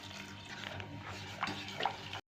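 Water poured into jaggery in a home kitchen to dissolve it, a continuous close splashing pour running steadily for about two seconds before stopping abruptly.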